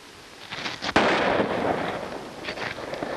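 A single sharp gunshot cracks out in an old western film, a loud sudden bang with a brief echo and rumbling tail, set against a noisy background.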